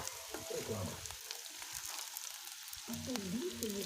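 Food stewing and frying on a pan made from a harrow disc over embers, a faint, steady sizzle with soft crackles and a few low scrapes throughout.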